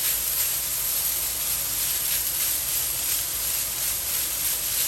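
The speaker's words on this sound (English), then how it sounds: "You hear that nice sizzle? That's what we're looking for." Coconut parching in a pan with spices for Guyanese quinches gives off a steady, close sizzle and hiss, even and continuous from start to finish with no voices.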